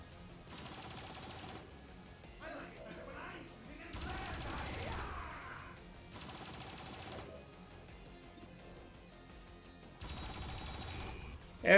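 Turrets open fire in XCOM 2 in several separate bursts of rapid shots, each lasting about a second, spaced apart by quieter game ambience, with a louder hit at the very end.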